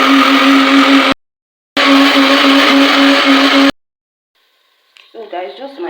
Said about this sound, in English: So I have them in the blender right now.